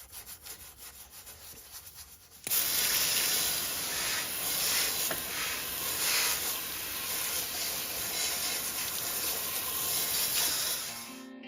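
Degreaser hisses in a steady, loud spray onto a Honda rocker (valve) cover, a continuous close-up rush lasting about nine seconds after a brief quieter start.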